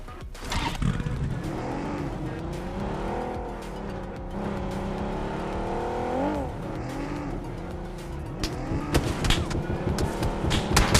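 A car engine drives and revs in PUBG Mobile, rising and falling in pitch over about eleven seconds, with tyre scrapes and rough bumps. The end grows busier and louder.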